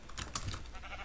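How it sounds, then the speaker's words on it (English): A sheep bleats briefly in the video game Minecraft, quiet and short, mixed with rapid computer keyboard clicking. "That black sheep named Box, whatever"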